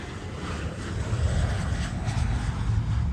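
Engines of a PMDG 777-200ER airliner spooling up during start in Flight Simulator 2024, a steady broadband roar and rushing fan noise, loud and continuous with no talk.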